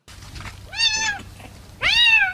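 A cat meows twice at a veterinary clinic during a rabies vaccination amid a rabies epidemic in Volyn, Ukraine: two clear, close, drawn-out meows separated by a short pause over a quiet background.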